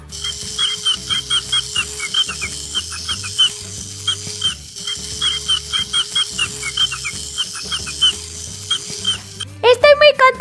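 Rapid, high chirps from a toy chick (Little Live Pets) repeat in quick bursts over a steady musical backing, with a louder flurry of cheeping near the end.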